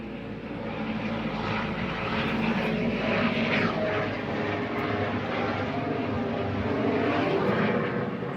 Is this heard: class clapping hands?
no